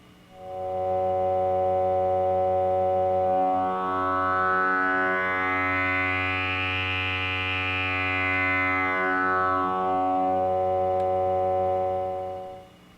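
A sustained buzzy Buchla analog synthesizer tone slowly sweeps in brightness, swelling from dull to sharp and back again over several seconds, with a steady pulsing undertone.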